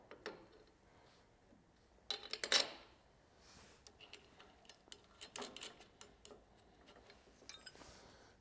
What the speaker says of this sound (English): Now let's reinsert the bolt.